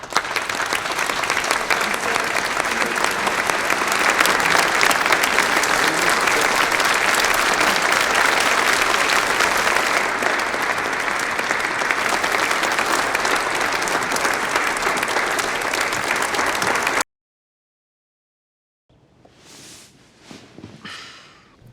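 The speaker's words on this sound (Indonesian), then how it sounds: "Karena tepuk tangan itu terdengar seperti ledekan baginya." Employees in an office scene from the TV drama Better Call Saul give sustained, loud applause for about seventeen seconds; it cuts off abruptly, and after a short silence someone briefly talks.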